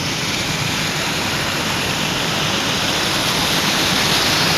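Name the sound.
Himalayan mountain river flowing over stones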